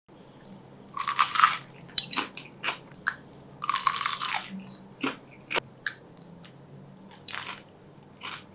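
Close bites and crunchy chewing of fried dynamite balls, chilies stuffed with ground meat, in several loud crisp bursts with softer chews between and no talking.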